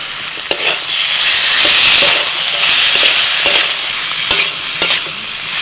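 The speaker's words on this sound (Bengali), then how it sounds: "অল্প একটু জল দিয়ে কষিয়ে নেব। মিনিট 7 মতো আলুটাকে আমি মশলার সাথে কষিয়ে নিয়েছি।" Potatoes fry in a pan with ground ginger-garlic paste, salt, turmeric, cumin and chillies, giving a loud, steady sizzle punctuated by sharp scrapes and knocks of stirring, with no talk.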